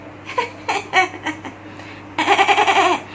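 A goat bleats as an effect in a night-time horror tale set at a tower, several wavering cries followed by a longer, louder quavering bleat.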